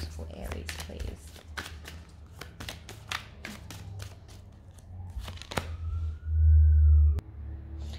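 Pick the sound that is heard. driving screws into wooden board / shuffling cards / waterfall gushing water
shuffling cards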